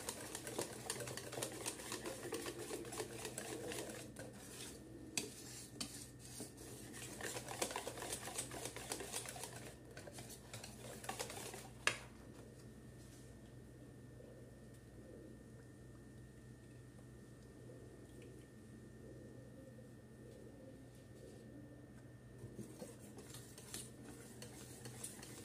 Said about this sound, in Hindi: जो दही मट्ठा हमने फेंटा था वो बेसन मिला लेंगे उसमें